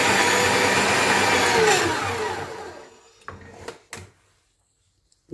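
A dough mixer kneads dough for crisp sesame chebakia, its steady loud motor whir and churning running for about two seconds before fading as it stops, followed by a few short knocks and clatters.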